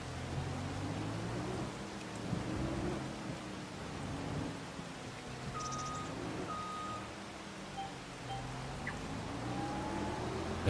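Rain sets in over the fields in Farming Simulator 25, a steady wash of hiss with low rumbling underneath and a few short electronic beeps, holding at an even level throughout.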